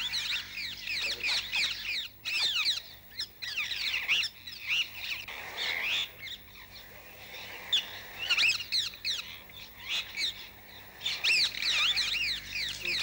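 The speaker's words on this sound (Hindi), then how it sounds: "इस पेड़ पे जो चिड़िया लगातार चै चै कर रही है" A bird in a tree chirps continuously in rapid, bright repeated notes, with bursts following one another closely at a fairly close distance.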